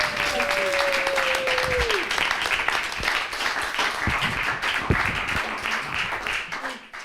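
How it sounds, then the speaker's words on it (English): Audience clapping at an evening book event, a dense steady round of applause that fades near the end, with a voice speaking briefly at the start. "One more round of applause for both of them."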